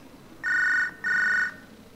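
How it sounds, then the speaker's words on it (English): Electronic telephone ring inside the Hard Time Prison Simulator video game: two clear, even tonal bursts of about half a second each, separated by a short gap, loud and alone over a faint background. "Ah, God, phone!"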